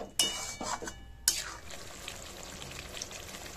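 Spoonfuls of kasuri methi and garam masala stirred into doi potol, a Bengali yogurt and pointed-gourd curry, in a pan. Two sharp clacks of a spoon against the pan are followed by a steady soft sizzle and quiet scraping.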